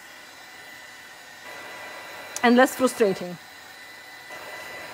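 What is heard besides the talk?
heat gun for embossing blowing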